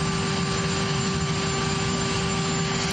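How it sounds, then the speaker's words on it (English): A helicopter runs close and loud with a steady, dense engine roar and a constant whine, unbroken for the whole stretch and heard alone. "he boarded the helicopter with his granddaughter"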